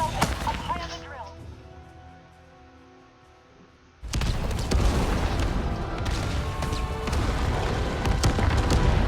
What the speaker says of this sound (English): I heard that explosion from here.